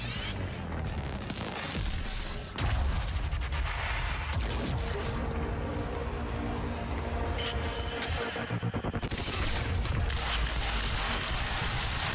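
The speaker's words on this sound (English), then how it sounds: "How are you shooting me from over there?" Enemies fire on the player in Quantum Break, with rapid volleys of gunfire and heavy impacts running continuously over a loud, busy game mix.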